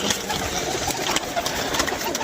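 Soft cooing of a flock of pigeons kept for high flying, a low burbling murmur running continuously in the background with faint shuffling, fairly distant and quiet.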